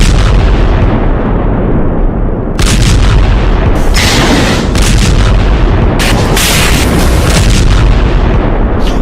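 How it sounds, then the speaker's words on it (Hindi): Continuous heavy bombardment during the war in Gaza, with loud booming blasts and rumbling artillery-like explosions rolling over one another, several sharp bursts standing out near and far, with no talk. "गाजा में जिस तरह की बमबारी हो रही है"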